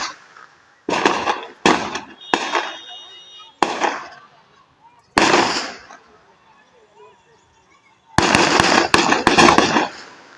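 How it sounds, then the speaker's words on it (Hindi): Rapid bursts of gunfire from a clash between armed gangs in Mokama village, Bihar, come as sharp, loud cracks in uneven clusters, some single shots, then a dense volley near the end, with quiet gaps between. "और इसी के बाद सामने आया था ताबड़तोड़ फायरिंग का वीडियो।"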